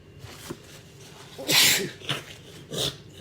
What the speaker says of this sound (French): Vous voyez, j'ai éternue.